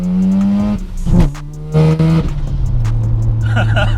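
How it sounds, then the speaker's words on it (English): A Mazda RX7 rotary engine with a big turbo and screamer pipe revs and burbles with a high-pitched exhaust scream. Blips rise and drop in short bursts, loud and close. "the rotary engine is a thing of beauty. It just burbles and revs exactly where you want it to"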